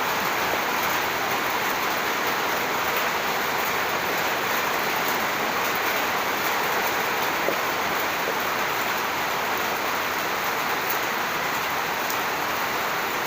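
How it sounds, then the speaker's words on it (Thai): Steady, hissing wash of rain falling continuously, even and unbroken, with no voices. "เสียงฝนตกครับเสียงฝนตก"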